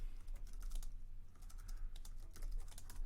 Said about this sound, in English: you can just start typing right away